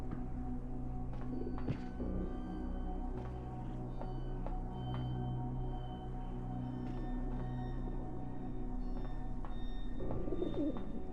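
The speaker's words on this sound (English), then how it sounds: "Oh, pigeons." Pigeons coo in the video game The Talos Principle, a soft, steady run of low calls under a constant ambient hum, with a few faint thunks and no talk.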